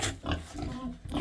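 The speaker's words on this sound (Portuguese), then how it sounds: "Os porquinhos aqui, ó." Pigs on a Brazilian farm grunt in a short burst of low, rough snorts, close and fairly loud, with no one speaking over them.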